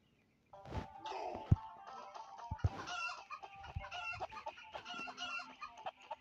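Chicken clucking and squawking in a four-player death battle video game, repeated busy clucks over clattering game effects with a few sharp thumps, fairly loud and close.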